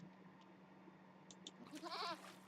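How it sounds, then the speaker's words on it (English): A sheep bleats once in a strategy video game, a short wavering cry near the end that rises over the steady low hum of the game's background ambience. "what is Alexander doing with these sheep"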